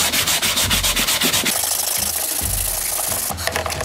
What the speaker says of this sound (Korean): 이제 400방짜리 사포로 밀어보도록 하겠습니다